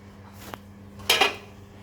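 Strawberries dropping into a drink shaker make one small knock, then a brighter clatter of fruit against metal a moment later, brief and close.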